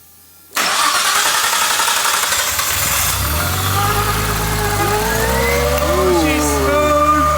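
A Nissan R34 Skyline engine cranks and catches after a short silence, then settles into a steady, fairly quiet idle with a low exhaust rumble and some revving.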